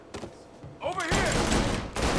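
Gunfire in Mafia Definitive Edition: bursts of loud, dense shooting in a tense firefight, with a shouted voice and game sounds mixed in, building into continuous heavy fire.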